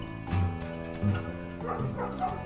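A dog in the video game Night In The Woods barks repeatedly, a few short loud woofs spaced over a steady musical game background.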